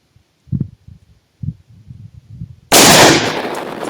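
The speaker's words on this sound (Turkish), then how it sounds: "En sağdaki hedefe iki tane tek kurşun atacağım." An Impala Plus 47 cantilever shotgun fires a single slug at a range, one sharp, loud close blast with a long decaying tail after a few quiet handling thumps.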